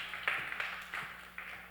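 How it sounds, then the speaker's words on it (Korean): A church chapel audience claps lightly, giving a handful of faint, scattered claps rather than full applause. "박수 부탁드립니다"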